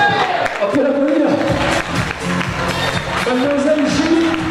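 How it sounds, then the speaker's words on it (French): An audience applauds a festival queen candidate at a town fête election, a dense, steady wash of clapping and crowd noise with voices mixed in throughout. "On peut l'applaudir."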